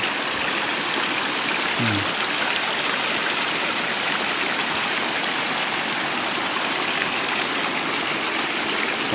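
Water gushes from a hole in the rock into a river, a constant, full-bodied rushing roar that stays loud and unbroken for the whole stretch, with nothing else standing out.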